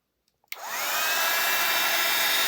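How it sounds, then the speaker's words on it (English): After a couple of faint clicks, a heat embossing tool switches on at its highest setting and blows with a loud, steady, hissing roar that continues to the end. "So I'm going to switch my heat tool on now."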